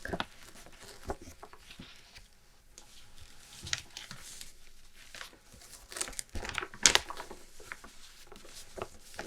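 A paper tourist map of Linz being folded up close by, with soft crinkling, rustling and a few sharp creases in irregular bursts, alone and fairly quiet.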